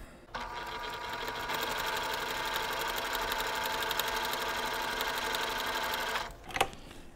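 A sewing machine stitches a quilt block just beside a drawn line, running in one steady, close, rapid burst for several seconds before stopping with a brief clunk.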